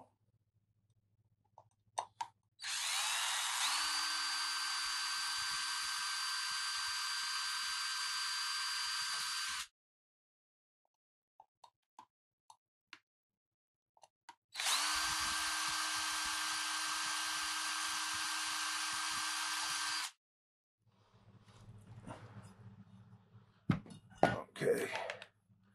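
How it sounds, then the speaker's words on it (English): Hand-held power drill boring into a small enclosure, two sustained runs of steady whine of roughly seven and five seconds each, separated by a pause with faint handling clicks, followed by rustling and knocks. "I don't like to drill straight into my hand"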